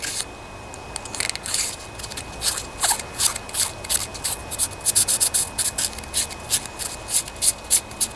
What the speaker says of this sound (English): just lightly sand them out like this